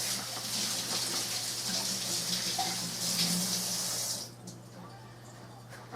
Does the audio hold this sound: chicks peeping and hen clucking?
no